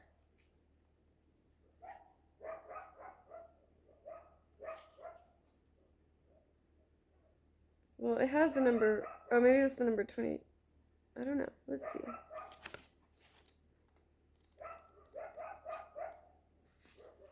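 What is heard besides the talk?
sled dogs barking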